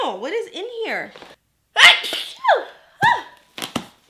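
A single sharp sneeze bursts out mid-clip during an unboxing of makeup and cosmetics, surrounded by animated talking before and after.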